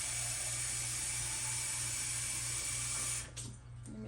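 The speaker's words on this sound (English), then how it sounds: "Let me add a little bit more water." Water runs steadily from a tap in a loud, close, continuous hiss, then cuts off near the end and gives way to a few faint splashes and drips.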